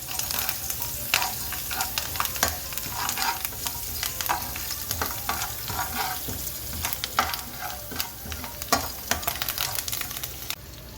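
Curry leaves and chana dal crackle and sizzle in hot oil for a South Indian tempering, a dense close spatter with sharp pops and stirring scrapes throughout, no voices.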